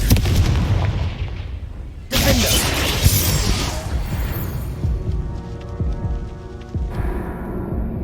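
A Confringo fire spell from Hogwarts Legacy goes off as a loud, booming blast with crackling bursts, followed by further rumbling impacts and a trailing ring, all dense and close with no talk over it.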